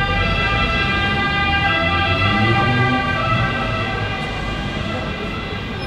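An ambulance siren wails outside with a steady, strongly tonal drone that fades slightly toward the end, loud and continuous over low traffic rumble.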